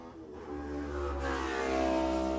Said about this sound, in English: Michael Butler away through the number 81 machine on the 350